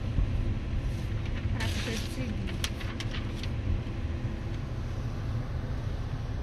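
Steady low road rumble from a car in motion, with broadband hiss and wind-like noise throughout and a few brief higher clicks and rattles midway, heard from inside the moving vehicle.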